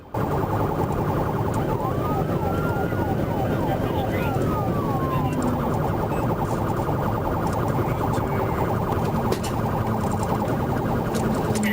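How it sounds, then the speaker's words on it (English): A police car siren wails, sweeping up and down over a loud, steady roar of road and engine noise during a pursuit, with the siren fading out midway through. "I activated my emergency lights and sirens and began pursuing the suspect vehicle"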